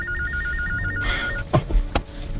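A mobile phone rings with an incoming call as a rapid warbling electronic ringtone, then cuts off and a few short thuds and knocks follow nearby.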